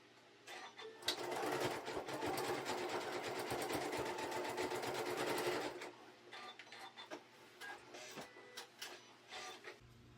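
A sewing machine runs a zigzag stitch across the end of a fabric rug made with batting, a fast steady chatter for several seconds, then stops and gives way to quieter handling and short bursts.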